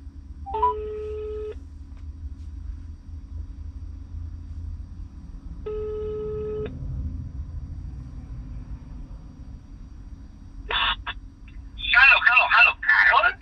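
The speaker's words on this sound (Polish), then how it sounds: "co stoję, to zadzwonię do Arka" A phone call's ringing tone sounds twice, each burst about a second long and spaced several seconds apart, over a steady low vehicle-cab hum, followed by a short click and a voice at the end.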